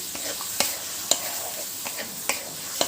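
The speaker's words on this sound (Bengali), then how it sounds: "এবার এটাকে নাড়াচাড়া করব মশলাটা ভাজা হওয়ার জন্য" Spice paste with tomato paste sizzles softly in a pan for lau chingri while a spoon scrapes through it in sharp, irregular strokes, about five distinct clacks over steady frying hiss.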